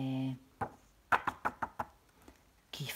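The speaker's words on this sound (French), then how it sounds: "qui frappe à la porte?" Knocking on a door in a children's story reading: about eight sharp raps in a quick uneven series, close and fairly loud, with a voice heard before and after.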